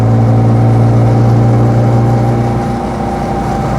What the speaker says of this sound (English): Obviously, it starts getting a bit busy as we build the speed up.